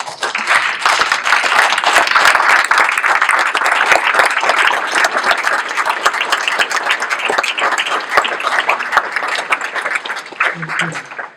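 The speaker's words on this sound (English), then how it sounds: "I think that we stand and give these guys a round of applause." A standing audience at a college signing day ceremony applauds loudly and steadily for over ten seconds, dense clapping filling the whole stretch with a few cheers mixed in.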